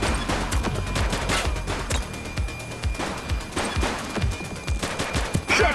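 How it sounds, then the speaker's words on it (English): Rapid gunfire in the police video game The Precinct, a dense barrage of overlapping shots and bursts that stays loud and continuous throughout with no pauses. "Shots fired!"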